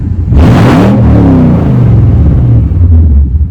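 A truck engine running without its catalytic converter revs up hard in a loud, close burst, then settles into a deep, rough rumbling idle with a raspy exhaust tone.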